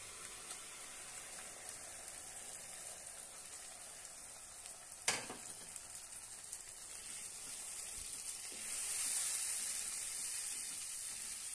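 Cooked whole mung dal with skins tipped into hot seasoned oil, giving a steady, fairly quiet sizzle throughout, with one sharp splash as it goes in midway and the hiss swelling slightly toward the end.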